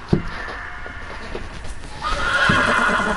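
A horse in a Game of Thrones video game neighs loudly once near the start, followed by softer snorts and hoofbeats, with a brighter wash of game ambience swelling in the second half.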